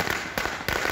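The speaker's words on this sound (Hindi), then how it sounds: "पश्चिम बंगाल में तो टीएमसी कार्यकर्ताओं ने आम आदमी पार्टी की जीत की खुशी में जश्न भी मनाया और जमकर आतिशबाजी की।" Fireworks and firecrackers set off by TMC party workers at a victory celebration in West Bengal, loud crackling bursts close together in a dense, rapid barrage with no talk.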